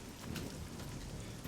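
Steady rain patters on a car in the survival game SCUM, a soft continuous hiss of drops with no voices, close and even throughout.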